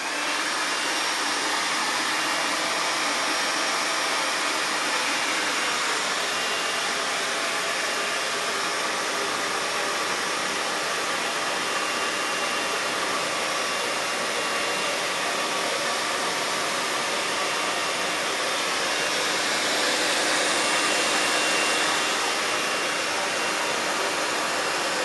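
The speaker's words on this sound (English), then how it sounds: "use a air dryer to increase the temperature" A hot-air dryer blows a steady, loud, continuous rush of air to warm up a pet enclosure's temperature sensor, holding constant for the whole stretch with no voices.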